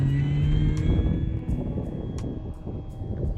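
A radio-controlled F3A aerobatic model airplane flies in a crosswind, its engine a steady droning whine with tonal harmonics, fairly loud and close throughout the brief stretch.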